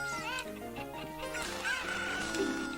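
Chickens in Zelda: Ocarina of Time cluck and squawk in a quick run of game calls, faint but distinct, with a rising crow-like cry in the middle and no one talking.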